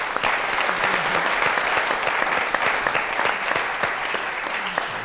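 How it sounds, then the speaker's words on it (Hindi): Studio audience applause on a Pakistani comedy talk show, a dense, steady wash of many hands clapping at even loudness throughout, with no voices standing out. "तालियां इन लोग के लिए।"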